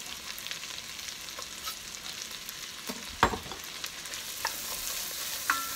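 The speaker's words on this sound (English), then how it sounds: "Give that a little stirry stir." Onions for a leftover turkey pot pie are stirred in a pot, a continuous frying sizzle broken by occasional scrapes and taps of the spoon against the pot.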